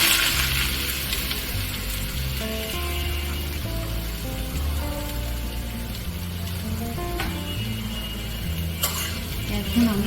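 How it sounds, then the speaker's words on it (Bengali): Chopped onions fry in hot oil in a karai, giving a soft, steady sizzle with occasional clinks of a utensil while someone talks over it. "এখন আমি কেটে রাখা পেঁয়াজ কুচিগুলো এর মধ্যে দিয়ে দেব।"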